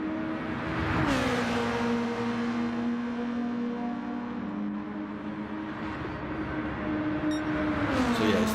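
Race cars lapping the Interlagos circuit, a loud continuous engine whine that climbs and falls in pitch as cars pass and shift, with faint crowd-like background noise and no speech.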